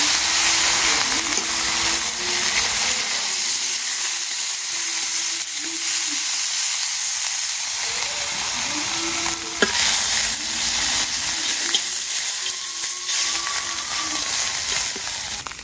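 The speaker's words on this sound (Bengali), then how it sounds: "এই যে মাছগুলি আমার ভাজি হয়ে গেছে" Fish fry in a pan of oil with a loud, continuous sizzle and crackle, broken by occasional clinks and scrapes of a utensil as pieces are turned.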